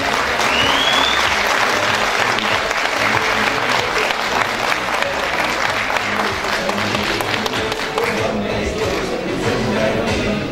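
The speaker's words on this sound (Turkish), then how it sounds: "şöyle kuvvetli bir alkış alabilir miyiz?" A large crowd at a Turkish political candidate introduction night gives loud, sustained applause, dense clapping filling the hall for about ten seconds and easing slightly toward the end, with a faint whistle early on.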